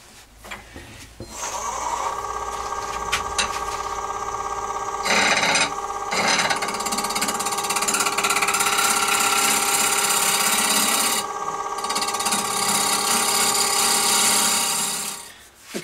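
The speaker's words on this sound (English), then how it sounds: "I'm going to need to skim over this outside edge here to get rid of this acrylic" A wood lathe turns a workpiece while a tool skims acrylic off its outside edge, giving a steady motor hum with a continuous scraping, rasping cut. The cutting sound shifts in intensity a few times and then fades out at the end.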